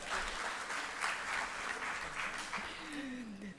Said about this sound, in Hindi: मौलाना जी की बुलंद आवाज के लिए एक बार तालियां हो जाए।